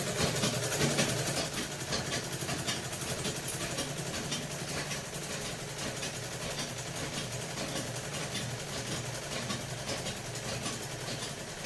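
A sewing machine stitching a seam on a suit, a continuous steady motorized whir with a dense rapid pulsing. It runs at low level throughout with no talking.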